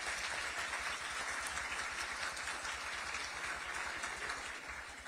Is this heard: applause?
yes